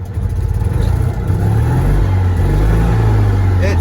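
A Citroen 2CV with a single-barrel carburetor starts and settles into a steady, loud, close idle, its low engine rumble continuous with a light clatter throughout.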